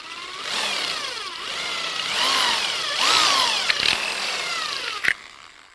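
Drill boring out and enlarging a hole in a small lamp part, a steady high whining grind with rising and falling pitch sweeps, close and continuous, ending with a brief sharp click.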